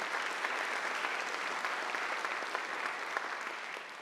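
Graduates at a university convocation applaud in a steady, even wash of many hands, moderately distant and holding constant before easing slightly at the end.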